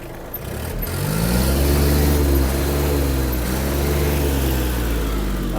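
A Japanese Iseki TG-27 mini tractor engine close by revs up, holds at higher speed, then eases slightly, running steadily with a low chugging drone.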